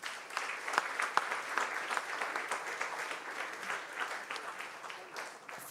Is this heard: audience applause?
yes